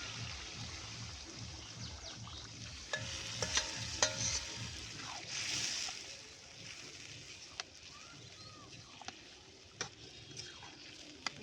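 Wild taro stir-fried in a spice masala with fish, a soft low sizzle under repeated scraping and stirring strokes in the pan, plus a few sharp clinks and a brief watery hiss midway.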